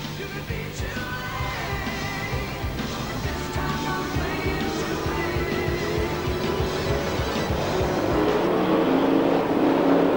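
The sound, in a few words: sprint cars racing at speedway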